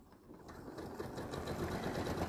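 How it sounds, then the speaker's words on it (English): A sewing machine stitches panel pieces together in a steady, fast mechanical whir that builds slightly, close up and with no voices. "So what I'm doing is actually just sewing these on"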